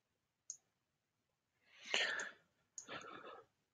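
Computer mouse clicks in ROBOT structural analysis software, a sharp isolated click early followed by two soft, breathy rustling bursts, quiet and close with no speech.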